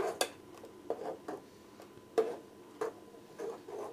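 A spoon stirring a condensed milk mixture in a bowl for carrot and pineapple gelatin, giving light, quiet clinks and taps at irregular intervals, close and soft, with no voices.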